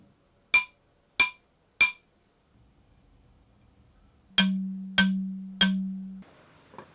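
Wooden tongue drum piece tapped six times, three bright ringing knocks, a pause, then three more strikes with a fuller, sustained low tone as the grip changes; close and alone.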